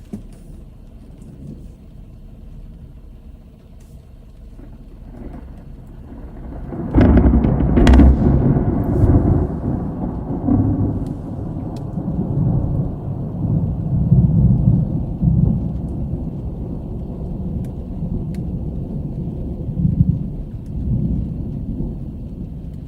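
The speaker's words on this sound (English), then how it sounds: "There's gonna be some thunder right here." Thunder from an overnight severe storm in West Texas breaks with a loud, close crack and then rolls on in long, heavy rumbles over the steady hiss of falling rain.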